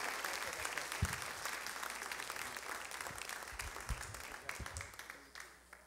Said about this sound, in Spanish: Con un cariñoso aplauso. With a round of applause.